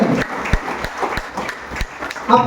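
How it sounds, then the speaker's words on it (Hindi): An audience at a business opportunity meeting in Gomia, Bokaro, Jharkhand claps for first-time attendees, a brisk, fairly close burst of hand claps with uneven rhythm that swells again near the end. "एक जोरदार ताली आप सबके लिए"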